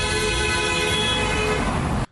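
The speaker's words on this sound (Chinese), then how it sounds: "停车场内车子因为塞在出口处，喇叭声按个不停" Car horns blare almost continuously in a jammed parking lot as vehicles back up at the exit, one long steady tone layered over others with traffic rumble beneath, loud and close for about two seconds.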